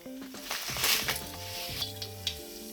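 Vegetables fry in hot oil for a pocket samosa filling: a soft, steady sizzle with a few light stirring sounds, close and fairly quiet, under a background of sustained tones.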